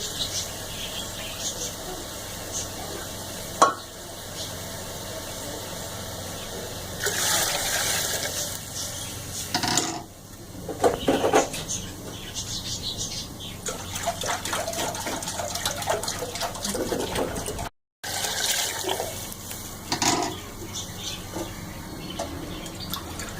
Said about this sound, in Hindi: ये हमने तकरीबन 4 प्याले पानी इसमें डाल दिया।